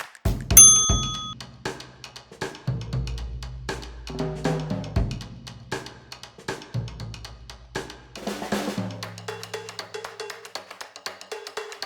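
Bright metallic bell-like dings and clangs ring out repeatedly during a low-impact walking cardio workout, mixed with percussive hits and tonal music in a rhythmic, fairly loud pattern without speech.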